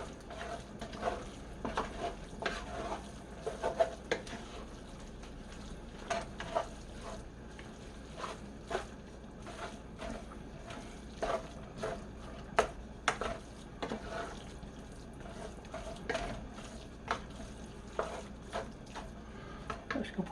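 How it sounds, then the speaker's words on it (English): A spoon stirs a quinoa and venison mixture with tomato sauce for stuffed bell peppers, giving soft irregular scrapes and light clinks against the pot, fairly quiet and steady, with no talking. "We're going to give that a mix up."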